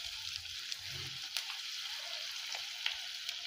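Cauliflower fritters coated in gram flour batter fry in hot oil, giving a steady, moderately faint sizzle with occasional soft pops and spatters throughout, no voices.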